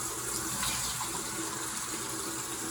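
Tap water runs steadily, rinsing foam cleanser off a face at a bathroom sink, a continuous close gush with no talking.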